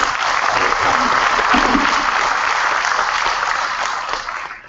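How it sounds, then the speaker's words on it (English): An audience at a book launch gives loud, sustained applause close by, the clapping gradually fading near the end. "So these are the people we need to really give an applaud and support them."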